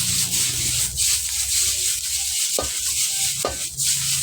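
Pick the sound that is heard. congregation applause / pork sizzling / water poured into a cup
pork sizzling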